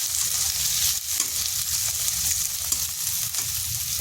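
Chopped onion sizzles lightly in a hot pan, a steady, close crackle with bright spitting and soft stirring scrapes throughout, no talking.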